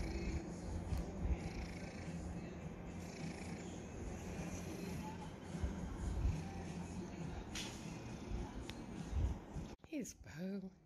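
A house cat purrs steadily at close range during a relaxed afternoon indoors, a low continuous rumble under soft background noise, with brief clatter near the end.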